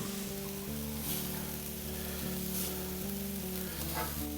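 Day-old pre-cooked rice sizzles steadily as it fries for beef fried rice, a dense continuous crackle with a faint hum underneath and no talking.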